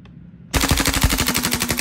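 A KWA Lithgow Arms F90 airsoft gas blowback rifle fires a rapid full-auto burst of sharp, loud, evenly spaced shots after a short quiet moment.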